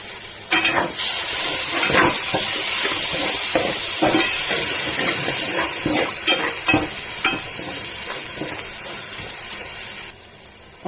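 Tomato paste cooking in a pan for chicken biryani, with a steady sizzle and repeated stirring and scraping strokes at close range, continuous throughout with no talk.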